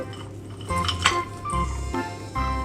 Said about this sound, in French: Et je touille.